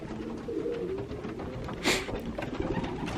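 Racing pigeons coo softly in a loft in the early morning, low throaty calls repeating under a light background bustle, with one brief brighter flutter-like burst in the middle.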